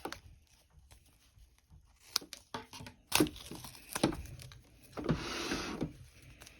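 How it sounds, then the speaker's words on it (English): Tape is peeled off a hair weft in several quiet, close crackling tugs and rips, ending in a longer tearing strip. "Peel the tape off."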